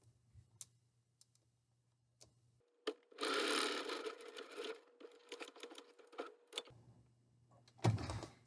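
A domestic sewing machine stitches an isolation gown seam made from a twin sheet, running in short back-tack bursts and then a steady forward run, with quiet clicks and pauses between stretches of stitching.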